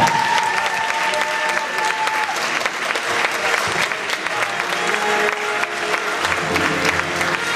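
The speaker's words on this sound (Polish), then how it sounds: "prosimy powitać wielkimi, wielkimi brawami" An audience at a Polish spring music event in 2008 bursts into loud, sustained applause, dense clapping from a crowd filling the whole stretch.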